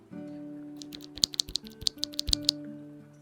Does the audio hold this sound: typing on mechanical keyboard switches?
yes